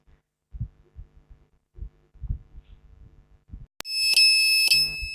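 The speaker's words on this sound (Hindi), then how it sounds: "तो बजर भी साउंड होने लगा है।" An electronic buzzer in a simple LED flasher circuit, wired to the relay's pins, switches on after a few soft low thumps and sounds as a loud, steady, piercing tone to the end.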